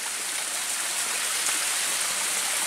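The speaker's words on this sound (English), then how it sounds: "you will come across numerous streams that flow water down the hillside" A stream runs down a forest hillside on the hiking trail to Maracas Waterfall in Trinidad, giving a steady, close, broadband rush of flowing water with no break and no voices.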